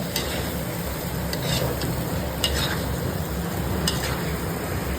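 Chicken afritada with bay leaves is stirred in a pan, a steady sizzle running throughout with scattered light scrapes and clicks of the spoon against the metal, close and fairly loud, with no talking.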